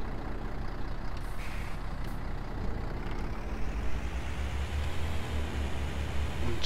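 MAN bus engine in Bus Simulator 2016 droning steadily with a hiss of air brakes, muffled and fairly quiet, no talking.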